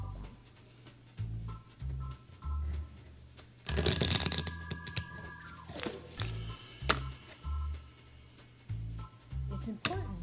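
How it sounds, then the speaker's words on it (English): At a school talent show, a deck of playing cards is riffled and bridged in a crisp, fluttering burst lasting a couple of seconds. Low muffled room noise and thumps come before and after it. "Deck of cards. I know how to shuffle them."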